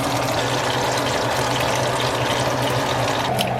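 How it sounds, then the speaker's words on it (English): Juices poured from the cavity of a roasted duck, a continuous liquid trickle and splash over a low steady background hum. "Pour out whatever's left in your duck. Those are some great juices."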